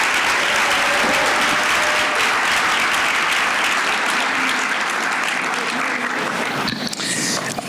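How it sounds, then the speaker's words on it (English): A large audience at the 2024 Forty Under 40 awards event gives a sustained round of clapping for honorees, loud and dense throughout. "Please give one more round of applause for our first 8 honorees"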